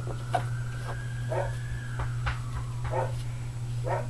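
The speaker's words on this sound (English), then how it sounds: "that's my dog in the background" A dog whimpers and yips in short, repeated bursts somewhere in the room, over a steady low hum.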